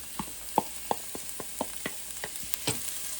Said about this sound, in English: So we saute them a couple minutes on low heat while our onions are nicely getting soft